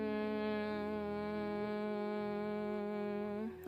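A person exhales while humming a steady, buzzing bee-like tone for Bhramari pranayama yoga breathing. The sound is close and unbroken, holding one pitch before tailing off at the end. The voice imitates a humming bee.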